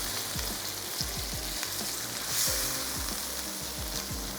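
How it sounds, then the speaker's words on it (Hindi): Cream being stirred into makhni mutton in a hot pan, a continuous sizzle with repeated scraping strokes of a spoon across the pan, close and steady. "चलिए जी, क्रीम ऐड करते हैं, अच्छा सा मिक्स करते हैं"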